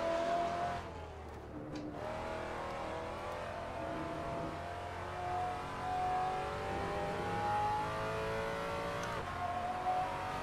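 Race car engine in the Assetto Corsa driving game, a sustained loud roar with a pitch that climbs and dips through gear changes, heard close and steady throughout with no talk.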